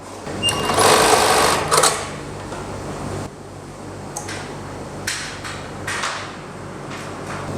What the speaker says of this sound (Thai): หลังจากที่เราทำการเทสเสร็จนะครับ เราก็จะ มาลองเย็บดูนะครับ